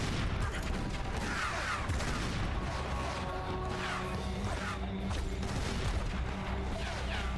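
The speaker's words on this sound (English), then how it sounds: "The first explosions." Explosions and gunfire from the video game Tomb Raider: Legend, repeated bursts and crashes over a dense, continuous roar of in-game noise.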